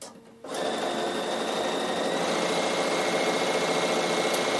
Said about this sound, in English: right side to right side, and back stitch, and do the seam.